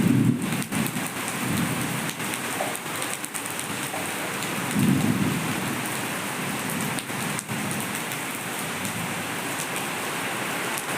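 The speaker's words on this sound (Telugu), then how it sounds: "ఫుల్ వర్షం పడుతుంది." Heavy rain pouring steadily on trees and surfaces during a storm, a dense continuous roar with occasional low rumbles, close and loud throughout.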